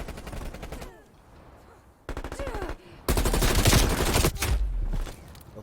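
Rapid automatic gunfire from a Call of Duty: Black Ops Cold War match, sustained bursts with brief pauses, loud and close, building to a dense fusillade near the end.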